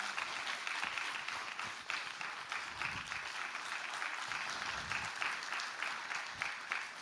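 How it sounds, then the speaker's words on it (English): Audience applause at an entrepreneurship talk event, steady dense clapping from a large crowd held at a moderate level for several seconds with a faint bit of background voice. "And audience, remember to smile, clap, and cheer."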